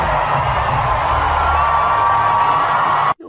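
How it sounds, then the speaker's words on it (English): A large crowd cheering at the Democratic National Convention, a loud continuous roar of voices and whoops filling the space for about three seconds before cutting off abruptly. "Take a look at this crowd at the DNC."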